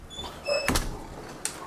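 A door pushed shut with a sharp knock, then a short click as it locks, followed by a quieter second tap in an indoor room.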